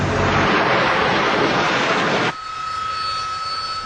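A Harrier jump jet's engine roars loud and broadband, then cuts abruptly to a quieter whining hum with a thin steady tone.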